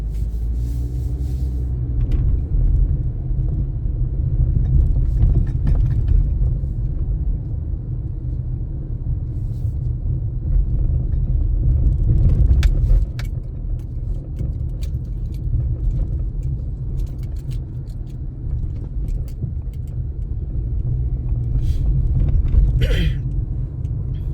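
Road traffic heard from inside a car on a drive home from work in Canada, amid road closures and a traffic build-up: a steady, loud low rumble of engine and tyres with a few faint rattles and clicks.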